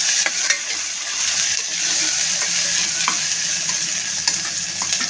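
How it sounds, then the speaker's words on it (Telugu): Ginger garlic paste sizzles steadily in hot oil in a pan for a Nellore-style egg gravy, with a constant dense frying hiss and occasional scraping stirs of a spoon, close and fairly loud, no voices. "అల్లం వెల్లుల్లి పేస్ట్ 1 స్పూన్ వేసుకుంటున్నా. ఇది కొంచెం బాగా పచ్చి వాసన పోయేదాకా కొంచెం వేపుకుందాం"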